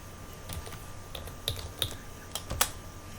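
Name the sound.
typing a QBasic program on a computer keyboard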